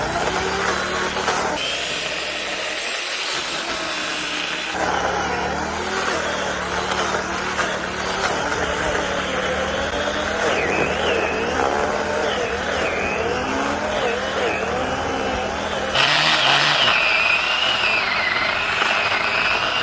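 An electric pole saw cutting branches on a homestead runs with a continuous buzzing motor whine that shifts in pitch under load and lifts in intensity toward the end.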